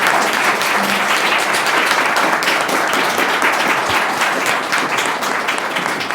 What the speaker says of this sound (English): let's have one more round of applause for our panel